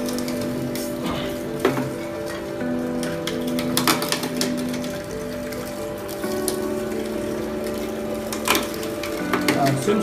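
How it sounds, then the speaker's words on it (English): A motorised sugarcane juice machine crushing thick sugarcane stalks at high speed gives a steady mechanical hum with layered tonal whine, broken by recurring crackles and crunches as the stalks pass through the rollers. "we can see how nicely this thick sugarcane stick is also being crushed"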